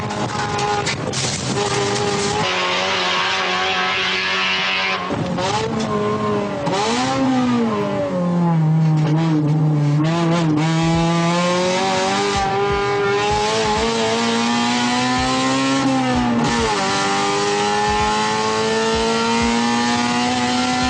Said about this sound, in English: there's a clip of Senna which I'll just cut to, and he's fucking driving the shit out of an EF9